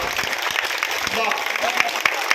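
Audience applause at a political rally: dense, steady clapping from a crowd that holds for the whole stretch, with a loud voice over it and a few sharper claps standing out.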